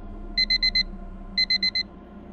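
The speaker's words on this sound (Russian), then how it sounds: "Будильник оглушительной трелью вырвал меня из теплых объятий Морфея" A digital alarm clock beeps in two quick bursts of four sharp, high electronic tones, loud and close over a low background hum.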